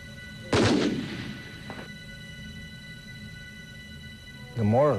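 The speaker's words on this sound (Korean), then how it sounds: "괴한이 일어서자 다시 쏜다." Gunfire from soldiers shooting at an armed man, one loud sharp blast with a decaying tail followed later by a fainter second report, against a quiet hum, with a voice starting at the very end.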